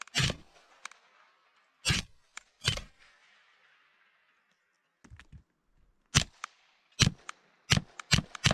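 Suppressed shots from a Silencer Co Sparrow 22 rifle sound as sharp, dry cracks, a few spaced singles and then a quicker string, fairly faint with quiet gaps between.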